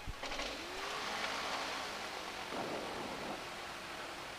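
A small autogyro engine cranks and catches, settling into a steady broadband roar that runs loud and close throughout, with a rising whine near the start.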